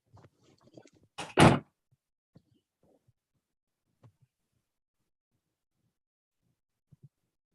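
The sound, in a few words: door being closed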